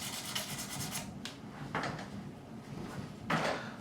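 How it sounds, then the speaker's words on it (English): Coarse sandpaper rubbed across the frets of a PRS Mark Holcomb Signature SE guitar during a fret level, giving a few scratchy back-and-forth strokes at close range with no talking. "this is really, really coarse sandpaper"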